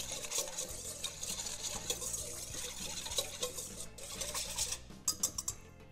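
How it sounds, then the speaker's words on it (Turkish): A utensil stirs sunflower oil and water together in a bowl for a pastry dough, giving steady close scraping and clinking with a few sharper taps. "ayçiçek yağını, suyumu ilave ediyorum. Şöyle bir karıştırıyorum onları."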